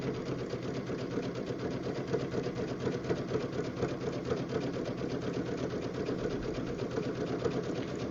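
A sewing machine stitches a jelly roll rug, a steady, close, continuous whirring hum with rapid needle pulses running throughout, no voices.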